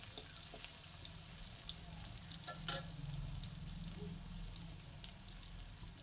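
Chopped onions hit hot oil already tempered with bay leaf and white cumin, giving a steady close sizzle with soft stirring scrapes and a brief clatter near the middle, no voices.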